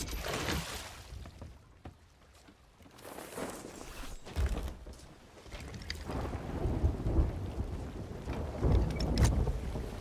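In a video game, a thunderstorm rolls in with steady rain hiss and deep rumbling thunder that swells and fades across the stretch, fairly loud and continuous, with no talking.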